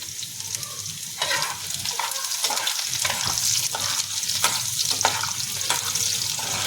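Steady sizzling of garlic and dried chillies frying in hot oil, with occasional stirring scrapes, continuous and close.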